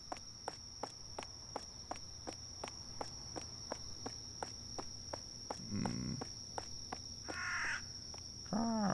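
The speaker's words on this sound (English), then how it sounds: "Crows are cool." Crows cawing in the game The Bathhouse, a few harsh caws late on over a steady insect-like drone and a regular ticking pulse.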